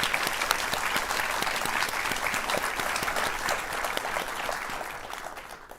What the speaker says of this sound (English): So audience, please give Lynn Birkman a round of applause